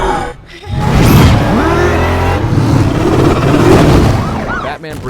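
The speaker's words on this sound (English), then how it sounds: "Batman brings Rachel in the tank, and he drives away" Batman's armored tank vehicle roars as it drives away, a loud, close engine surge with whooshes and rumble, mixed with sighs and gasps in a tense movie scene.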